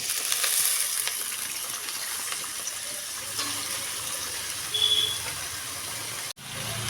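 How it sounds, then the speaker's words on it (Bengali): Cut potatoes hit hot mustard oil in a pan, giving a steady, fairly quiet hiss and sizzle that runs throughout with a brief sharp click near the end. "তেল গরম হয়ে গেছে এখন দিয়ে দিব কাইটে রাখা আলু"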